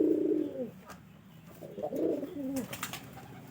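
A pet pigeon cooing close by, two soft throaty coos with a quiet pause between them.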